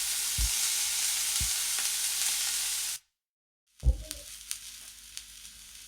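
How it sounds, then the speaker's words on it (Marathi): Ground masala paste sizzles in oil in a pan over medium heat for potato gravy, a steady close hiss with a few soft stirring knocks, a brief silence, and then more sizzling with scrapes. "वाटण घालून झाल्यानंतर आपल्याला हे छान परतून घ्यायचं आहे"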